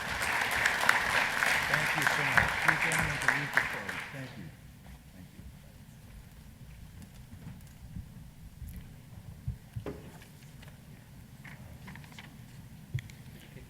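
Audience applause at a stem cell summit: dense clapping from a crowd for about four seconds, fading out, then quieter room sound with talking.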